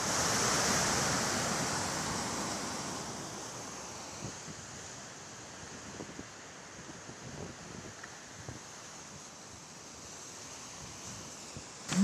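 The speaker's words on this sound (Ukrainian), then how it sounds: "Це була дуже потужна річка." Powerful river water rushing after a dam near Moshchun was blown up, a steady broad roar of fast, heavy flow with occasional splashes and churning bursts, continuous and fairly close.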